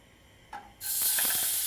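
Beef tenderloin drops into hot olive oil in a pan and erupts into a sudden loud, bright searing hiss that holds steady, preceded by a brief faint clink.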